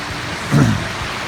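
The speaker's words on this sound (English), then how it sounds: "Sound of rushing water" Rushing water of Fish Creek on the trail down to Tully Hole in the Sierra fills the air as a steady, even hiss, with a brief soft low swell partway through.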